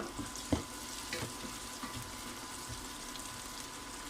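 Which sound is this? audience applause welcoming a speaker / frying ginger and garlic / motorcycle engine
frying ginger and garlic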